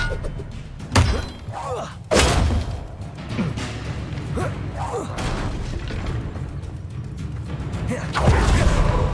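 An Expelliarmus spell cast in Hogwarts Legacy lands with a sharp crashing thud and whoosh, followed by a second heavy impact and rumbling combat noise, ending in another swelling burst.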